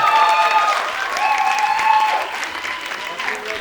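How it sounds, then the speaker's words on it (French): Applause and cheering from a live comedy-show audience as a performer named Ryan is welcomed, a crowd clapping with some whistles or shouts over it. "Un tonnerre d'applaudissements pour Ryan, s'il vous plaît."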